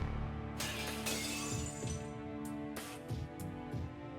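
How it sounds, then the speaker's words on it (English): A crystal-like glass barrier in the Fate/Stay Night visual novel shatters into pieces, a loud crash followed by repeated sharp glassy bursts and tinkling fragments over a sustained musical backdrop. "Built like a crystal, it cannot even block one of the showering weapons and shatters into pieces"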